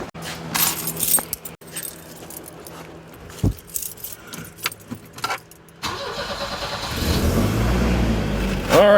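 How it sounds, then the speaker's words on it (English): A 1985 Volvo 244 cranks and fires up after repair work, its engine catching and settling into a steady idle, preceded by keys jangling and cabin rustling close by. "let's go for the first startup with it back together"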